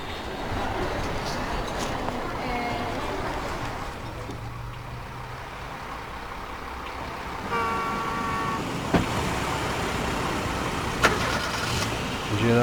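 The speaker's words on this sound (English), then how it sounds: "Some vehicles starting their engines." Airport ground vehicles start their engines at Milan Malpensa in a flight simulator game, a low mechanical rumble with a brief tonal toot and a few sharp clicks, heard at moderate distance.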